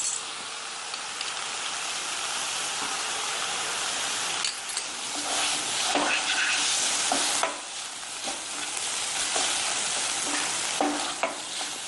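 Paneer and chopped coriander sauté in a pan, giving a steady close sizzle and frying crackle with scraping stirs throughout, no talk.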